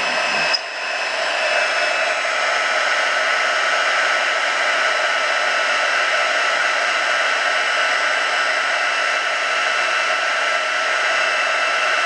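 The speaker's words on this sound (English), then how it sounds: "let's get out our heat tool, heat that up" Heat tool blowing hot air for embossing black powder on a vellum envelope, a constant loud whooshing hiss that runs unbroken for the whole stretch after a brief click at the start, with no talk.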